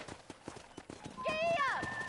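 Horse hooves clip-clop at a steady walking rhythm on a ranch in the video game Red Dead Redemption, with a whinny rising near the end and a voice speaking over it.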